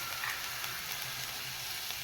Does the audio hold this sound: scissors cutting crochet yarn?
no